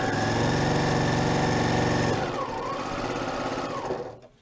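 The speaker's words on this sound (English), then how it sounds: "I'm sewing like one stitch off the edge, pulling my piece out" A sewing machine stitches quilt pieces, a loud steady close whir with fast rhythmic needle pulses that slows and shifts pitch about halfway, then winds down and stops.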